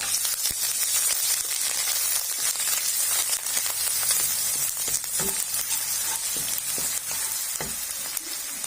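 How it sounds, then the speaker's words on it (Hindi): Ginger garlic paste sizzling and frying in hot ghee for mutton korma, a steady, loud, bright hiss with occasional crackles and stirring scrapes, no talking. "अब उसी घी के अंदर हम डाल देंगे अदरक लहसुन का पेस्ट।"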